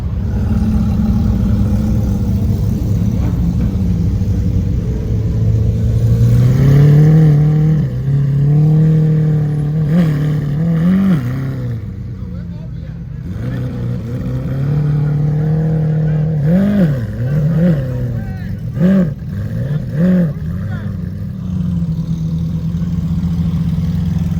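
A Lamborghini SV supercar engine runs loud and close at a New York charity supercar gathering, idling then rising in several sharp revving bursts with wavering pitch, faint crowd ambience beneath.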